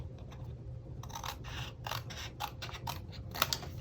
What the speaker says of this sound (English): and just trim that off.